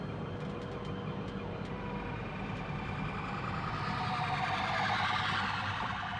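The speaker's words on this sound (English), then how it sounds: "Oh yeah, siren here." A siren wails steadily in the distance, rising and falling under a constant rumble of street noise.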